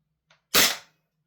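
A Maruyama SCW-9 SD2 PRO gas blowback airsoft rifle has its locked-back bolt released, giving a faint small click followed by one sharp, loud metallic slam that rings out briefly and decays, nearby and alone.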